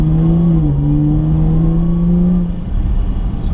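A Jaguar XE S executive saloon carrying the F-Type engine pulls hard, its loud droning engine note climbing steadily and close before easing off near the end.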